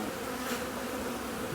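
Honeybees buzz steadily at an apiary hive, a dense continuous drone close by with no voices.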